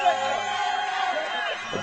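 Partisan crowd noise from spectators at a men's flag football bronze-medal match between France and Israel, a steady, moderately loud wash of voices and cheering with no distinct peaks, underneath continuous commentary.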